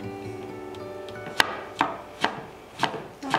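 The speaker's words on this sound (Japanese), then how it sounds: "茹でたじゃがいもを千切りにしていきます。" A knife cuts boiled potatoes into julienne strips on a cutting board, a handful of distinct, evenly spaced chopping knocks close by with no voices.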